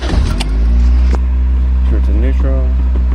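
A 1990 Toyota Sera with an open-style air filter cranks and catches, its engine settling into a loud, close, steady running rumble while a person speaks briefly over it.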